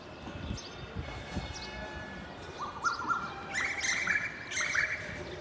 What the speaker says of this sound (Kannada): ಮುಂಜಾಲದ ಸ್ವಲ್ಪ ಬರ್ಡ್ಸದ ಆವಾಜ್ ಕೇಳ್ರಿ.